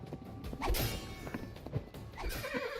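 A horse whinnies amid clattering combat sounds, thuds and creaks in the VR game Tales of Glory, fairly faint and mixed with battle noise.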